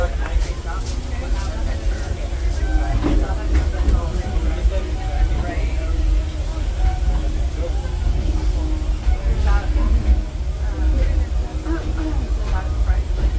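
Riding aboard the Disneyland Railroad behind the steam locomotive Ernest S. Marsh: a steady, loud rumble of the moving train carries on throughout, with faint murmuring voices mixed into the ride noise.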